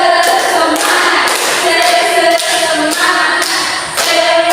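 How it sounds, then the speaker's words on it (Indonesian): A group performs a rhythmic spirit clap during a group counseling session, with loud, steady bursts of clapping repeating in a regular pattern over several seconds, without talk. "jadi sebelumnya kita tepuk semangat dulu ya"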